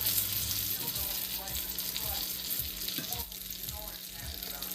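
Kerala-style masala-coated mackerel (ayala) fries in a hot pan with a steady, close hiss of sizzling oil, accompanied by a few soft stirring or shifting sounds.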